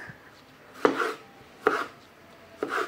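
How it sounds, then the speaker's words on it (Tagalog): A knife slicing small tomatoes on a cutting board, three distinct crisp chops spaced about a second apart, close and clear with quiet pauses between. "hiwain muna natin to, ang ating kamatis"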